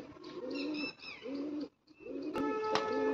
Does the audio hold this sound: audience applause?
no